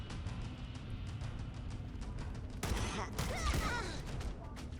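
A pistol fires in the Halo: Combat Evolved campaign, a few sharp bursts cutting through steady in-game ambience near the middle of the moment.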